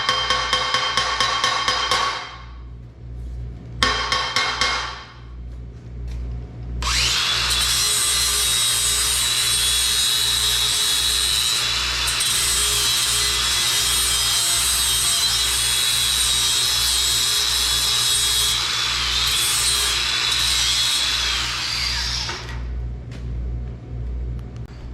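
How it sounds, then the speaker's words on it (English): An angle grinder touches up a steel roll cage tube on a CJ2A Jeep build: a few short bursts, then a long, loud, steady grinding whine of about fifteen seconds before it winds down, with no talking. "Touch this one up with the grinder real quick too."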